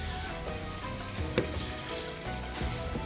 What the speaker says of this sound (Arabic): شوف شلون الزبدة والزيت بلشوا يحموا عندي